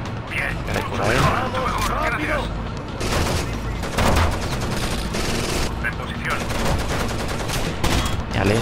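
Dense, sustained automatic gunfire and bursts of machine gun fire from a firefight in the Tom Clancy's Rainbow Six Vegas shooter game, loud and continuous with overlapping shots and mechanical clatter, as voices talk over the action.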